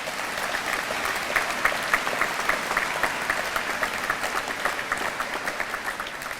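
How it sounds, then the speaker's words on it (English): A crowd applauds steadily for a graduate at the Hastings High School commencement. Many hands clap in a dense, sustained wash that holds evenly for the full stretch, with no talk over it. "Let's have another round of applause for Shay Archambault."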